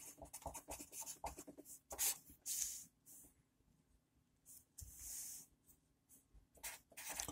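Pen or pencil scratching out math intervals on paper, quiet, close, irregular strokes and taps with short pauses between bursts of writing.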